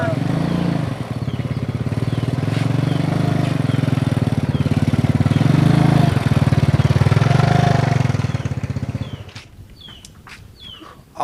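A motorcycle engine putters close by at a steady, buzzing idle with slight revs for about nine seconds, then cuts out, leaving quiet outdoor sounds and chirping birds, with voices talking throughout.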